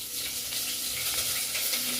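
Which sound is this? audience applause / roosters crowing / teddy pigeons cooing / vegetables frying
vegetables frying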